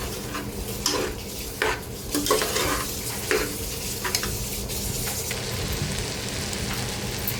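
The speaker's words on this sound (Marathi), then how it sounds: "आता तांदूळही आपल्याला 2 ते 3 मिनटं ह्या भाज्यांसोबत असं मिक्स करून परतून घ्यायचे आहेत" Rice stirred and sautéed with vegetables for veg pulao in a pressure cooker: a spatula scrapes and clatters against the metal pot in uneven strokes over a soft, continuous sizzle, close and without voices.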